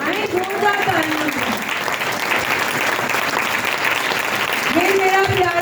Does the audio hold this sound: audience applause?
yes